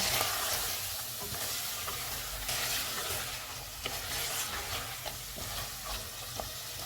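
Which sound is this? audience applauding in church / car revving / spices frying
spices frying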